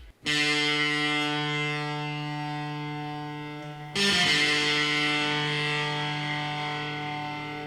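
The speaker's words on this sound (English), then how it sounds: "It's like the epitome of spaghetti Western music" Spaghetti Western style music: long, sustained twangy electric notes ringing out with heavy reverb and distortion, one swelling tone giving way to another.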